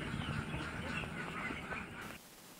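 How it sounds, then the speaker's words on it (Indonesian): Laying ducks in a duck pen quack in a dense overlapping chorus, close and fairly loud, before the noise drops off abruptly near the end. "Ini adalah kandang bebek milik Da Henry."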